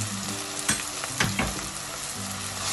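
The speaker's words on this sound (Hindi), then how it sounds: "सारे मसाले को अच्छे से मिक्स कर लेंगे।" Spices including coriander powder and kitchen king masala being stirred into makhana dal in a pan, with a steady close sizzle and a few louder scraping strokes of the spoon, no talking.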